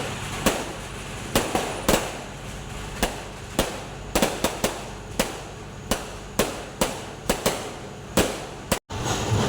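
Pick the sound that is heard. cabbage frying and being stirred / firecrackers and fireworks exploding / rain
firecrackers and fireworks exploding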